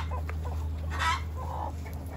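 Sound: village chickens and roosters clucking

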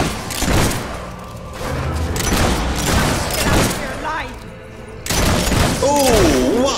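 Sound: gunshots in the video game Fable 3

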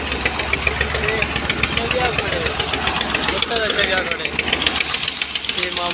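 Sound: tractor engine running

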